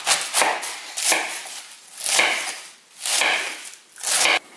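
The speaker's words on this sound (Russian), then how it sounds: "Пекинскую капусту нарезаем." A knife chops Napa cabbage on a cutting board, crisp rhythmic strokes in several close, evenly spaced bursts.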